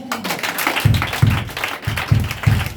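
A church congregation claps in steady rhythmic bursts during a worship service, the claps falling about every half second and fairly close, with a faint murmur of voices behind.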